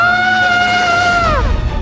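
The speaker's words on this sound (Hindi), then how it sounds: "सुनाई दी एक चीख।" A loud, close scream used as an effect in a horror story narration: one sustained high cry that holds steady and then bends downward and breaks off, heard alone.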